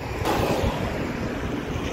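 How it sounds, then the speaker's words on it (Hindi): A cold wind blows along a busy road in Batumi, Georgia, a steady, loud rushing roar buffeting the microphone without pause. "ठंडी ठंडी हवा चलनी स्टार्ट हो चुकी है"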